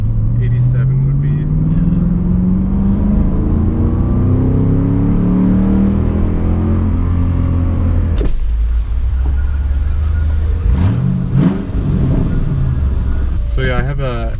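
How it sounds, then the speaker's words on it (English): Engine of a 2008 Mustang GT fitted with an SLP Loudmouth axle-back exhaust, a loud, close, deep rumble that swells and falls in revs, with a sharp mechanical clunk midway and someone talking over it. "I have a SLP loudmouth axleback exhaust. Just replaces the back 2 huge suitcase mufflers"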